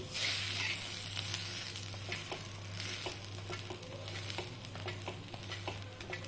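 Steady sizzling of a folded cheese masala pav toasting on a hot griddle, a continuous crackle with scattered soft clicks and taps, close and moderately loud, with no one speaking.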